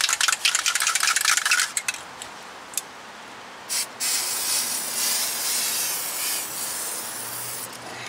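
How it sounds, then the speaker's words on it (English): Fluid Film is sprayed from an aerosol can onto the front brake parts of a 2005 Lexus ES330, with short bursts followed by a longer steady hiss, close by and loud with no talking. "Spray this with some fluid film."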